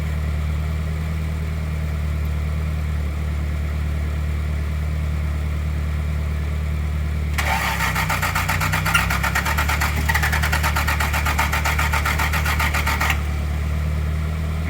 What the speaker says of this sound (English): Okay, it's cranking.